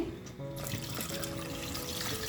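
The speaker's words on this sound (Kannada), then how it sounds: "ಒಂದು ಗೋಲಿ ಗಾತ್ರದ ಹುಣಸೆ ಹಣ್ಣು ನೆನೆ ಹಾಕ್ಕೊಂಡಿದ್ದೆ ಅದರ ರಸನ ಇವಾಗ ಹಾಕ್ಕೊಳ್ತಾ ಇದ್ದೀನಿ" Soaked tamarind juice poured into a pan while cooking a horse gram recipe, a soft continuous trickling splash, close and alone, lasting a couple of seconds.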